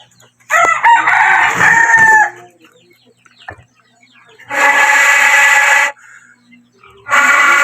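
Roosters crow at a home in the Philippines, three long cock-a-doodle-doo calls loud and close with short quiet gaps between them, the first carrying more wavering harmonics than the two later ones.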